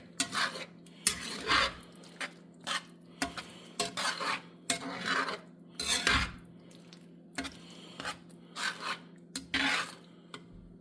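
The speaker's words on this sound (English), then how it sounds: "And our grated Parmesan cheese. And we're going to stir that in a little bit" A spoon stirs grated Parmesan cheese into a baked ziti mixture, making repeated rhythmic scraping and squelching strokes against the bowl, with brief pauses between bursts and no voices.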